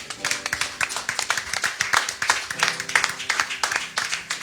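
A church congregation claps in steady, rhythmic unison to praise the Lord during a celebration service, loud and close, with instrumental music and some voices underneath.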